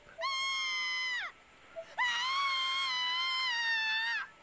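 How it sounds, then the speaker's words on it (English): Two long, sustained screams of agony ring out in the horror video game Corpse Party: Blood Drive, the first about a second long and the second lasting over two seconds, loud and alone. "we're already hearing screams of agony"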